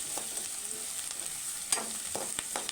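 Turmeric stirred into a simmering egg curry in a pan, with a soft steady sizzle and a few scraping strokes of a spoon against the pan, quiet and close, no talking.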